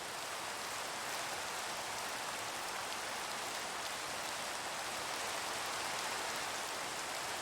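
Rain in the video game Minecraft pours as a steady, even hiss, continuous and moderately loud with no voices or other sounds.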